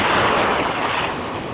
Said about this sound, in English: I can sense you're annoyed by the sound of the soothing waves.